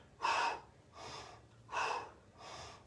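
Four slow, audible breaths alternate between exhaling and inhaling, each a soft airy rush lasting under a second, close and with no talking.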